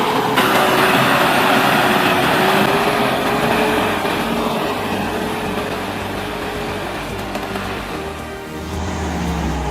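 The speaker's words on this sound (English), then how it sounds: "The Volvo FM 440 timber truck is conquering the steep slope." A Volvo FM 440 timber truck's engine drones steadily under heavy load climbing a steep slope, a continuous low rumble with grinding mechanical noise, easing slightly before rising again near the end.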